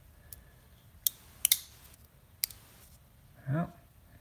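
Several sharp plastic cracks and snaps from a model truck cab being broken apart, a few separate close pops spaced over a few seconds, followed by a short low muffled rub.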